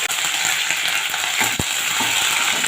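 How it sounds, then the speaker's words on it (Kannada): Curry leaves hitting hot oil with mustard seeds and Byadgi chillies for a Mangalorean mushroom pepper fry: a loud, dense, continuous sizzle up close, with a brief clatter of stirring partway through and no talking. "ಈಗ ಕರಿಬೇವು ಸೊಪ್ಪು ಹಾಕ್ತಾ ಇದ್ದೇನೆ."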